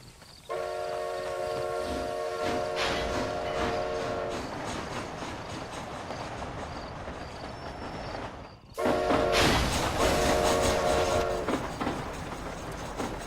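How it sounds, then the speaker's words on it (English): A steam train in Red Dead Redemption: Undead Nightmare, its whistle sounding in long chords over the steady rumble and clatter of rolling cars, then a louder surge as the whistle blows again. "This train headed for Mexico?"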